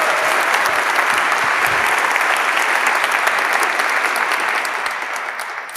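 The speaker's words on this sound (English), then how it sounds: "please now another giant round of applause for Nishu Goel" A conference audience gives a big round of applause for a speaker at a web performance event, dense, loud, sustained clapping from a large crowd that starts to fade slightly toward the end.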